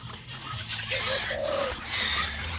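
Young cage birds at a bird farm give short cooing and chirping calls, a few distinct notes over a low steady background hum.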